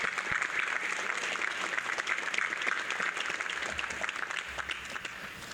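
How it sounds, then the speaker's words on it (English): Audience applause at a university graduate hooding and commencement ceremony, a steady, fairly distant wash of many hands clapping that holds evenly throughout without voices. "Please join me in giving him a round of applause again."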